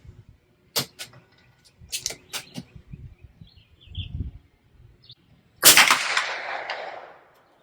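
A Federal .22 LR high-velocity hollow-point round fires from a rifle: one loud, sharp crack with a short ringing tail, preceded by a few quieter clicks and soft handling rustle.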